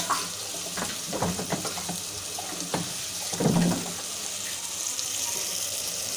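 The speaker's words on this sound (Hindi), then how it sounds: "थोड़ा सा पानी डाल दें इसमें।" Water is poured into a pan of simmering potato and cauliflower curry, giving a steady wet rush and splashing over the low hiss of the cooking.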